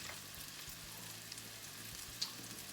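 Food sizzles quietly in a pan with the browned bits left from cooking Salisbury steak meat, a soft, steady frying hiss with one brief sharper crackle near the end and no voices.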